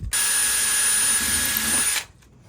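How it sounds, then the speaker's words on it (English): A power drill bores holes into wooden rods for a homemade spice rack, a steady loud whine running continuously for about two seconds before cutting off abruptly, with no talking. "He has been drilling holes in our rods"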